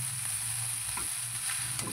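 Mixed vegetables frying in a pan for non-vegetarian-style pasta give a steady, close broadband sizzle with a few soft stirring scrapes, and no voices.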